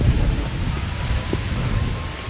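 Steady rain falls outdoors on a wet day near a spa in Mirissa, Sri Lanka, a dense, continuous hiss with low rumbling underneath and no voices.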